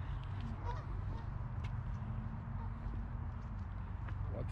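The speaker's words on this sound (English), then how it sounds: "there's a duck" Ducks at Eldorado Park in California give honking calls at a moderate distance over a steady low rumble of background noise.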